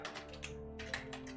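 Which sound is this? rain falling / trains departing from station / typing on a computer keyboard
typing on a computer keyboard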